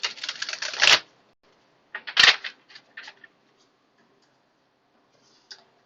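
A few short bursts of tarot cards being riffled and shuffled, close by, separated by quiet pauses, with a faint tap near the end.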